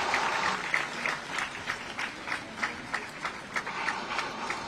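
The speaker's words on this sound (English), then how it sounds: "Let's keep the applause going." An audience at a foundation's tenth anniversary ceremony applauds steadily, a dense wash of many hands clapping at moderate loudness with a slightly rhythmic pulse.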